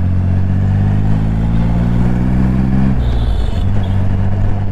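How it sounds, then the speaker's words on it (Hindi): A limited edition Triumph Rocket X motorcycle engine pulls hard under acceleration with a loud, deep, throbbing exhaust note. The pitch climbs steadily, then drops at a gear change before rising again, recorded close up while riding. "थोड़ा सा एक्सीलेटर देने पे भी बाइक खतरनाक भाग रही है"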